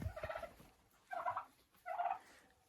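Domestic turkeys gobble three times, a short burst at the start and then two separated calls, fairly close and alone with no talk.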